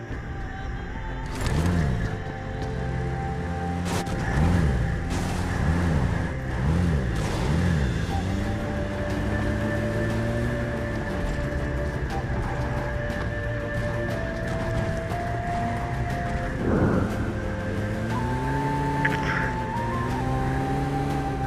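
A vehicle drives in the PUBG video game, its engine revving up and down in repeated surges, then holding a steady drone with gear shifts and a few sharp impacts.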